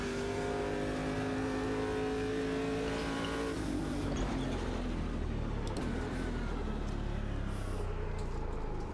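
A Stadium Super Truck races at Long Beach in Automobilista 2, its engine holding a loud, steady roar that breaks into a rougher, gritty rush of revving and tire noise, with no talking.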